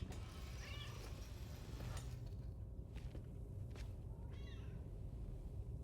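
A cat in the video game Death Stranding 2 gives a few short, soft meows against a steady, rushing ambient background, with light footsteps. No talking.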